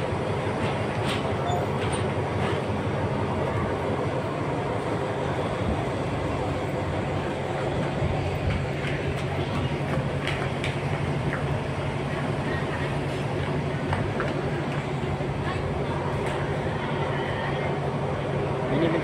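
Inside a train just boarded at Thonburi railway station in Bangkok, a steady broadband rumble and hiss of the carriage continues with faint clicks and murmuring voices in the background throughout.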